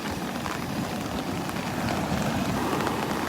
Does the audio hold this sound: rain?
yes